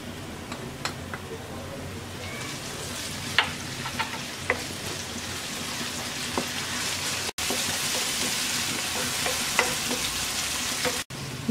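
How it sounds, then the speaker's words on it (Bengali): Green chili and garlic paste added to onion and garlic frying in a pan, a continuous close sizzle with scattered spoon scrapes and stirring clicks. "পেঁয়াজ রসুন ভেজে নেওয়া হয়ে গেছে, এবার দিয়ে দিচ্ছি কাঁচামরিচ আর রসুন বাটা।"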